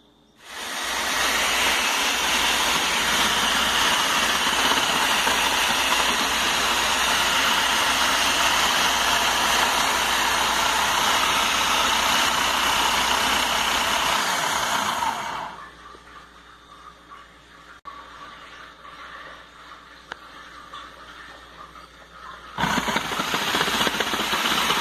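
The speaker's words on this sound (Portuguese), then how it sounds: "Essa parte aqui do multiprocessador e a mandioca fica fininha assim." A food processor slicing cassava into thin rounds for chips gives a steady loud whirring and rattling for about fifteen seconds, then drops to a quieter hum before a short burst near the end; no talking.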